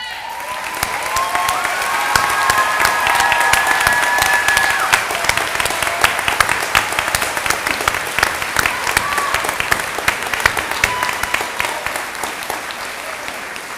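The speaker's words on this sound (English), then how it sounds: "please stand to be recognized with our applause" A large crowd at a high school graduation ceremony applauds loudly and steadily for over ten seconds, with some cheering woven through the dense clapping.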